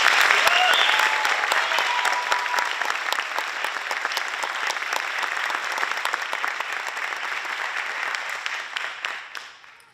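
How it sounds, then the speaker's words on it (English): A crowd at an eighth grade promotion ceremony claps enthusiastically in sustained applause that gradually fades out toward the end. "one more round of applause for our 8th grade"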